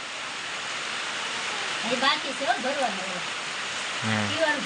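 Steady rain hiss fills the background while a voice briefly talks over it.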